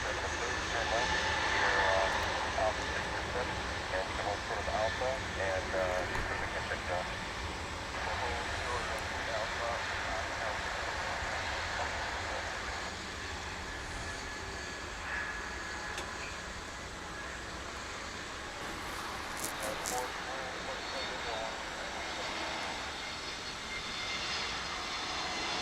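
A Frontier airliner's jet engines roaring as it rolls down the runway for takeoff at DFW International Airport, a loud continuous rushing drone from some distance, with people talking over it.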